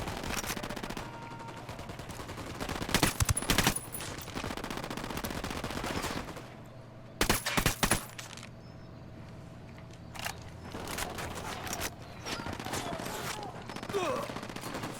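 Video game gunfire from Ghost Recon Wildlands comes in dense bursts of rapid shots at around three and seven seconds, with scattered lighter shots and game ambience in between.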